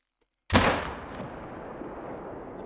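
A single sharp rifle shot from a 7mm hunting rifle in The Hunter: Call of the Wild, cracking loudly after a short silence and trailing off in a long rolling echo across mountain terrain.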